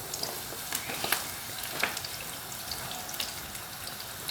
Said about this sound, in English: We're just going to let these fry down.